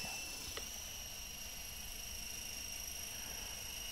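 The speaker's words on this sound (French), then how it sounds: "Ça a l'air d'être un hélicoptère pour faire du vol stationnaire" Steady whirring buzz of a small toy helicopter rotor hovering, a constant high-pitched hum with background noise and no speech.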